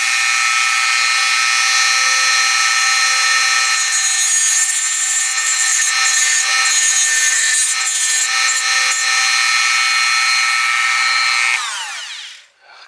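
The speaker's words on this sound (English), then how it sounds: "I'm just going to do this by hand" A key being cut by hand, with a steady, loud, rasping tool sound running continuously for about twelve seconds and then stopping abruptly near the end. No one speaks.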